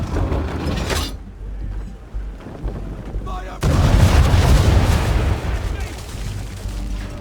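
Ship cannons fire in Assassin's Creed III, heavy booms and rumbling blasts rolling across a loud naval battle, with a sharp surge of barrage partway through and voices mixed in.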